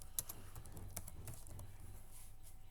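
Fingers tapping on a computer keyboard, a quiet, close series of uneven clicks with short pauses between bursts of keystrokes and no talking.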